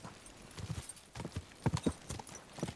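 Horse hooves clip-clop at a walking pace in the medieval game Kingdom Come: Deliverance II, a loose irregular rhythm of fairly close thuds with no talk over them.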